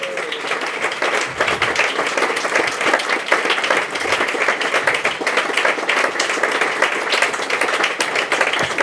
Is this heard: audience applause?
yes